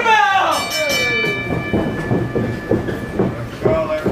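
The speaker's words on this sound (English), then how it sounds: "Ring a bell!" A bell rung to open a tag-team training wrestling match, a loud close clang whose ringing tone fades over a few seconds beneath crowd noise and shouting.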